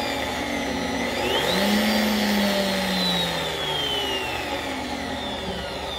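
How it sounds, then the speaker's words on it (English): An electric stand mixer whirs steadily while stirring sugar for homemade white bread dough, its motor pitch rising and falling slightly over a continuous close hum. "I'm going to turn on my mixer for a minute just to mix up all my sugar"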